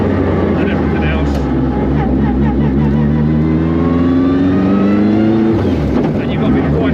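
Works Lancia Delta Integrale rally car, roughly 500 hp in an 1100 kg shell, driven hard, its straight-cut gearbox whining loudly in rising and falling pitch over steady engine drone, with people talking inside the cabin.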